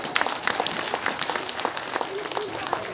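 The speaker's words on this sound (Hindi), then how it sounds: "उन लोग के लिए भी एक ताली बजा दीजिए।" An audience at an inauguration event in Pakke Kessang bursts into steady, dense clapping that carries on for the whole stretch, with a few louder claps standing out above the crowd.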